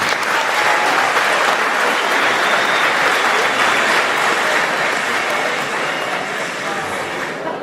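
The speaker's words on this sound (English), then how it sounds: "Please, a very big hand of applause for our sponsor." Sustained applause from an audience at an awards and closing ceremony for a school science fair in Lusaka, a dense, steady wash of clapping that holds loud throughout and eases slightly at the end.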